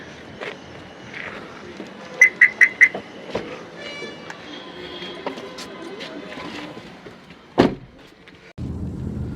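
Getting into a car during a family trip from Kainchi Dham toward Nainital brings a few quick clicks and thumps, a loud door slam near the end, then the low hum of the car cabin, with faint voices in the background.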